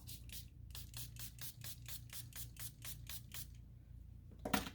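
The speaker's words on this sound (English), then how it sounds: "These are our spritzers with some alcohol." A hand spritzer loaded with alcohol mists onto ink laid on a glass craft mat, about a dozen quick, evenly spaced spray puffs, close and soft, then a short scraping knock at the end.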